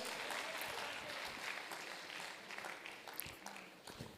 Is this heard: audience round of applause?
yes